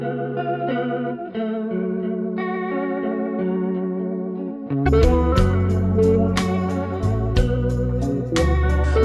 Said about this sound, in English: a rotary effect that gives the guitar a sound similar to a vintage organ